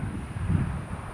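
Wind buffets an outdoor microphone in a windy neighborhood, producing a brief, low, rumbling roar that swells and fades over about a second, with no other sound standing out.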